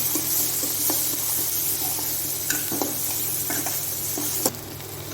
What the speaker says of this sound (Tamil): தக்காளி வெங்காயமும் ஓரளவுக்கு நல்லா வணங்கி வந்துருச்சுங்க